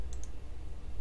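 Two quick, faint computer mouse clicks close together opening a terminal on a Linux Mint KDE desktop, over a low background hum.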